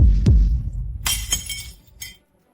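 Glass breaks nearby: a heavy low thump, then a bright crashing shatter with scattered tinkling shards and one last clink before the sound cuts to silence.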